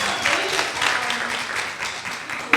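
Audience applause fills the room, steady broadband clapping with a sharper burst at the end, mixed with faint murmuring voices.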